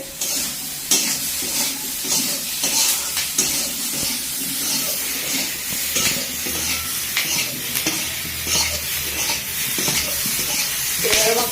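Ginger-garlic paste sautés in a pan of mustard-oil fish curry base, a steady loud sizzle with repeated scraping stir strokes from a spatula, close and continuous, no talking over it.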